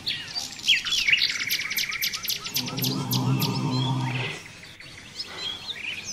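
Birdsong in a forest, with bright, rapid chirps and trilled phrases ringing out over a steady low insect-like drone, busiest early on and thinning toward the end.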